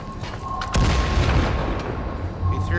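A grenade goes off in the shooter game Firewall Zero Hour, a deep booming blast with a rumbling tail close by, preceded by a faint tonal whine, with a player's voice talking over it.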